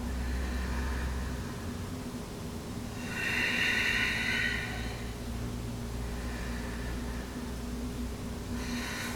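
Slow, deep breathing during a yoga back bend, with long airy inhales and exhales close to the mic over a steady low hum, no one talking.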